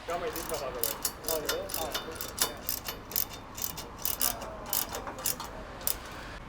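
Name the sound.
ratchet tightening bolts of a Ford Bronco bull bar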